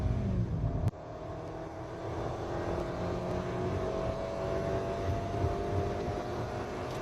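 A Kia Stonic EX+ car accelerates from 0 to 100, its engine drone steadily rising in pitch after a sharp click, heard from inside the cabin at a moderate level with no talking.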